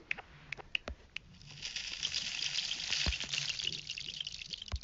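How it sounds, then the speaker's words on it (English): Rain falling in the video game WorldBox, a soft pattering shower that swells in the middle, with scattered sharp clicks over it, faint and even. "Oh, I need to get rain here really quickly."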